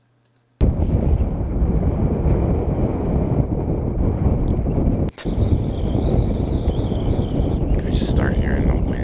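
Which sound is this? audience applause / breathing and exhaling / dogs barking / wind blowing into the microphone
wind blowing into the microphone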